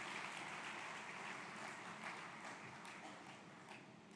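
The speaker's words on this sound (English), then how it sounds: "So shall we give a combined applause to the present and future winners" Fairly quiet, steady audience clapping at an HR awards ceremony, honouring present and future award winners, a dense even wash of claps that fades slightly toward the end.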